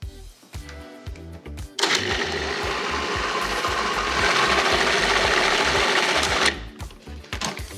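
Blender pulsing black bean brownie batter with coconut sugar, a loud grinding whir lasting several seconds between shorter mechanical bursts, close and alone.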